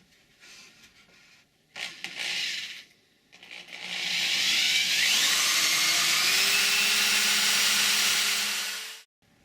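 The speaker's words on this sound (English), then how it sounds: "drill a 1/4 inch hole the length of the tang right down the center of the handle" A power drill bores a quarter-inch hole lengthwise through a wooden chisel handle. A few short bursts lead into a loud, steady whine and grind that holds for about five seconds and then stops, with no talking.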